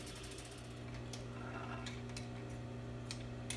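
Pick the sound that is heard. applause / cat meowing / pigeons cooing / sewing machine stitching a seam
sewing machine stitching a seam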